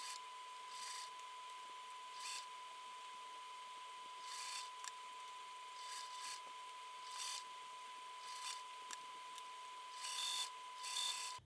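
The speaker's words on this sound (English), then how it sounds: "Since we're stitching through very thick layers, I recommend to lengthen your stitch length and use larger needles." A sewing machine with a walking foot stitches through very thick layers of a sling bag in short, quiet, mechanical bursts separated by pauses, with a faint steady hum underneath.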